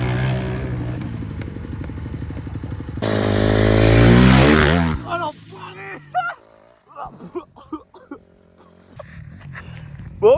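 A motorcycle engine runs and revs up close, swelling into a loud roaring surge before cutting away to scattered clatter, knocks and brief voices.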